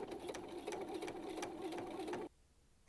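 Sewing machine stitching a skirt facing seam for a medieval overdress, a steady close mechanical whir with rapid needle rhythm that runs about two seconds and then stops abruptly.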